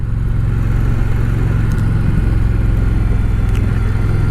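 An Indian Challenger Dark Horse touring motorcycle with a liquid-cooled engine is ridden along, its motor a loud, steady low drone with continuous wind roar close up and no speech.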